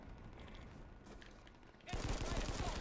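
Gunfire in the Planetside 2 shooter game hits the player from behind: a loud, dense burst of rapid shots that starts partway through and stays intense, following quieter background battle noise.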